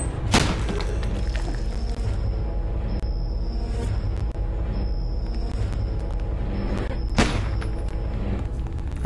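Gunshots in the game Ebola: two loud, sharp reports, one near the start and another several seconds later, over a steady low rumbling background with a faint high tone.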